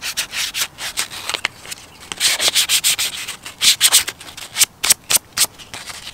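Sandpaper of 220 grit rasps by hand across Audi A4 headliner trim in close, rhythmic strokes, with short scrubbing bursts giving way to crisper, evenly spaced swipes near the end, and no talking.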